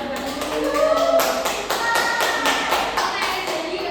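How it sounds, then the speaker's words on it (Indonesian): A small classroom claps for a student during a micro-teaching lesson, a modest scattered round of hand claps with some tapping thuds, while faint voices and tones linger under it. "Tepuk tangan buat Mbak Nurul"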